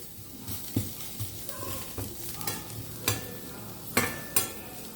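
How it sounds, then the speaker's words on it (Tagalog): Food toasting in a pan until crunchy, with repeated stirring scrapes and light sizzling, a few sharper clinks of the utensil against the pan at irregular intervals, close by with no talking. "Yung tutustahin ko lang siya ng konti pa para crunchy siya pag nakain ni Calix."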